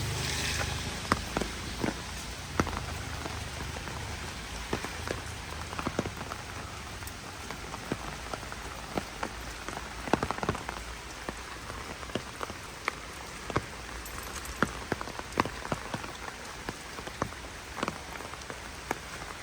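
Steady rain patters on a city street in Lviv, a dense hiss with scattered sharper drips, continuous and even throughout.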